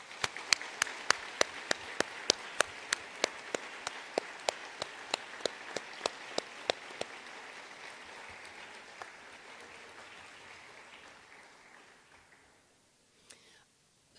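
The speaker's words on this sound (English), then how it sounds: "show them your appreciation with you giving them a round of applause" Families at a medical school white coat ceremony receive applause, sparse sharp individual claps standing out over a softer crowd patter that gradually thins and fades to near quiet, with one last clap near the end.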